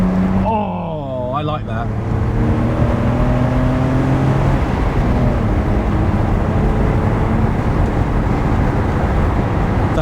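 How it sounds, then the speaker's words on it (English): A BMW Z4 2.5i straight-six revs up, then settles into a loud, steady drone with a whooshing roar as the car drives on, while a voice speaks briefly over it. "let's just give it a few more revs"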